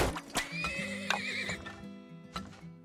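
A horse in the video game Turmoil neighs clearly several times over layered game music, with light hoof clip-clops and sharp clicks in between.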